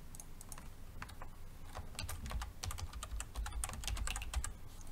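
Computer keys clatter in quick irregular bursts of taps for several seconds. The typing is close and fairly quiet, with no voices.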